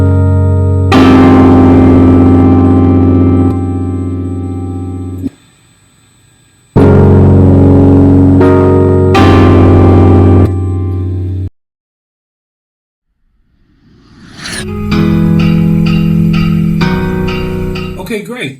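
Piano chords ring out in a worship-song instrumental progression, sustained and loud, with one pause and a silent gap before a final denser chord; no one speaks.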